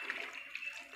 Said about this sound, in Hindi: इसलिए मैं थोड़ा सा और इसमें पानी शामिल करूँगा।